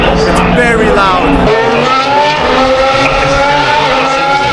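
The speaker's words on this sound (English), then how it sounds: "Just hear the noise of the cars passing by. It's very loud." Formula 1 race cars scream past one after another during a practice session, a very loud, high-pitched engine wail that rises and falls as each car passes close by.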